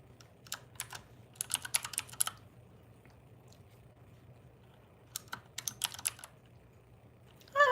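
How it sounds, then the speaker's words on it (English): Typing on a computer keyboard comes in two quick, clicky bursts separated by a quiet stretch, with a low steady hum underneath and a brief louder knock at the very end. "I was just typing your name."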